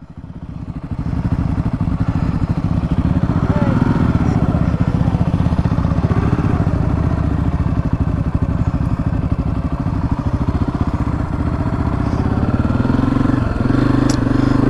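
A 2024 Honda CRF250F dirt bike is ridden through sandy desert in 110° heat, its single-cylinder engine holding a steady, close, loud buzzing drone with slight rises in revs throughout.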